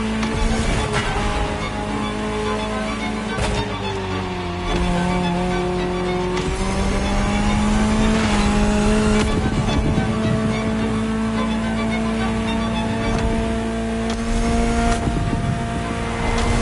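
A high-revving Ferrari supercar engine in a video game roars continuously, with rising and falling pitch as it shifts gears, loud and close throughout.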